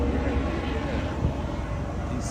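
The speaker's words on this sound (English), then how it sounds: "y'all hear the helicopters out here? Oh yeah, we got the helicopters out here." Helicopters flying overhead above a street, a steady broadband engine and rotor drone running throughout as people talk nearby.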